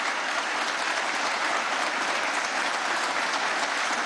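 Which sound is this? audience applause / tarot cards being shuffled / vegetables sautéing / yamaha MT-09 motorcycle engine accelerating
audience applause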